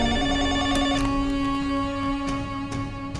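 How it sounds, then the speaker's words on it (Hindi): A telephone rings with a loud, sustained electronic bell tone, its pulses repeating closely over the whole stretch with no talking. "फोन उठाओ, उठाओ, उठाओ नहीं तो मर जाओगे।"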